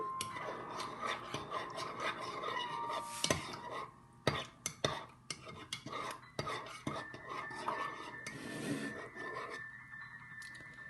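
A spoon stirs a teaspoon of honey into milk in a cup, giving close, soft scraping and clinking with irregular sharp metallic taps against the sides.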